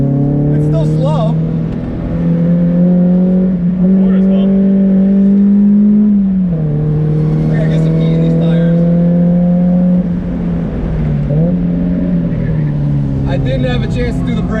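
A Mazda MX-5 Miata on Feal 441 coilovers drives on a track, its engine droning loud and close with steady tone shifts as it rises and falls through gears, while people talk over it.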